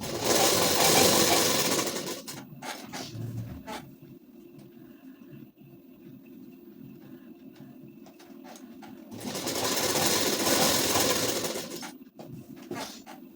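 An electric sewing machine runs a seam on a size-34 ladies suit, with two sustained bursts of steady whirring stitching at the start and end, separated by a quieter stretch of low handling and light mechanical sounds.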